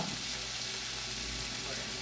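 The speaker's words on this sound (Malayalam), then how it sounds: "തക്കാളി കിഴങ്ങും അതൊക്കെയാണ് ചേർക്കാം അതും നല്ലപോലെ വഴറ്റി കൊടുക്കാം" Tomato and potato sizzling and frying in a hot pan, a steady crackling hiss with no talking.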